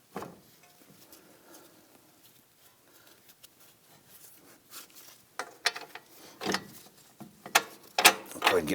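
Ratchet tightening a lower strut bolt on a 2001-2009 Volvo S60 during rear suspension work, rapid clicking bursts that start faint and grow louder and more forceful, close by and alone.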